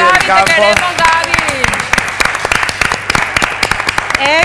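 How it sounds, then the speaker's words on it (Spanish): Enthusiastic applause with clapping from a television show studio audience, while voices cheer and speak loudly in Spanish over it. "Un aplauso para Gaby."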